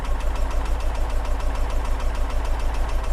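A Porsche 914 engine with twin Weber carburetors idles during tuning, a steady, close, pulsing low rumble at low RPM with no one speaking.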